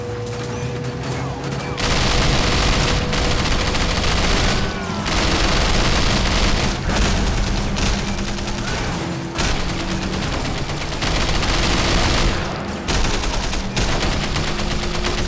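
Sustained gunfire in the open-world action game Sleeping Dogs, with loud, continuous volleys and rattling bursts running for most of the stretch, with brief lulls and booming impacts mixed in.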